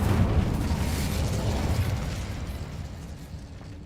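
In Hogwarts Legacy, an Incendio fire spell lets out a loud, low roaring blast that rumbles and crackles, then slowly fades over a few seconds.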